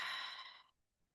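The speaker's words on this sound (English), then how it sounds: "take some deep, deep breaths in through the nose and out through the mouth" A single deep exhale through the mouth during a relaxation exercise, a close, breathy whoosh that fades out within a second into near silence.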